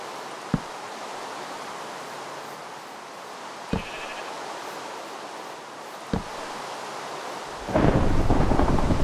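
Thunderstorm rain in a video game makes a steady wash of rain with sharp, sudden thunder cracks at regular intervals, then a louder burst of heavier rain near the end, alongside faint sheep bleats.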